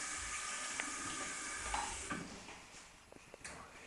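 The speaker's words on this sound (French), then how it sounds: "vous ouvrez le robinet" Tap water gushing steadily in a bathroom, a broadband hiss with a few small knocks and clatters near the end.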